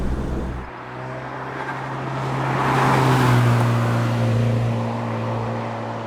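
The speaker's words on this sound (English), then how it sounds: "That engine is absolutely hateful." A Zenos E10 R sports car engine revs up and then eases off, a loud and rough droning tone that swells midway and fades slightly at the end, with no voices over it.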